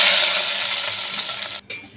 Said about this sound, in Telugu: సో చేసుకున్న తాలింపు అయితే వేసేసుకోవాలి